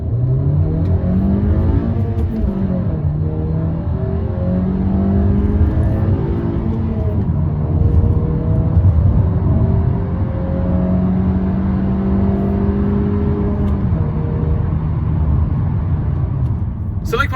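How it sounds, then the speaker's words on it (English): A 2020 Honda HR-V with a 1.5-litre VTEC engine accelerates hard from a standstill to motorway speed, the engine note rising through gears with clear shift breaks, steady road rumble beneath, heard from inside the cabin. "Let's see what it's like going onto the motorway from 0 to 120 kilometers an hour."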